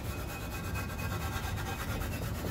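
Old RTV sealant being scraped off the engine mating surface of an F150 EcoBoost: a steady, close rasping scrape that continues unbroken throughout.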